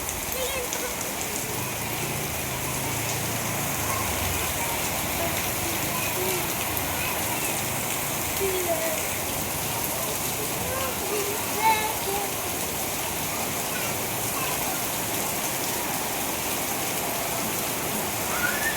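Steady rain pours down around houses as a dense, even hiss that fills the whole stretch without letup, with children and adults talking faintly beneath it.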